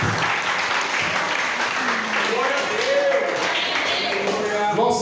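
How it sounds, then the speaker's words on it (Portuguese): A church congregation claps together in sustained, even applause during a worship service, with a voice speaking over the clapping toward the end. "Vamos dar uma linda salva de palmas para Jesus."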